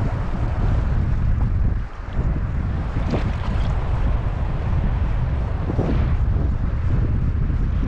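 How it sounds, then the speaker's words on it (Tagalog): Steady wind roars across the microphone outdoors beside water during a fishing trip, a loud continuous buffeting rush that dips briefly for a moment and then returns. "Ganda yung hangin mga master."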